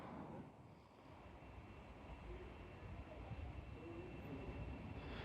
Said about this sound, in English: And with that train leaving